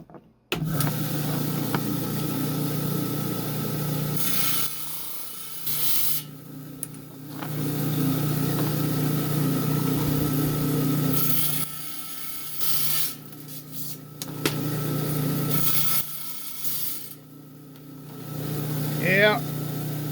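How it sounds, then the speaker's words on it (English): A 10-inch lapidary trim saw cuts through stone slabs for cabochons, a steady buzzing whine broken by several pauses and restarts over about twenty seconds, with a sharp scraping screech near the end. "we're down here on my high-tech 10-inch trim saw"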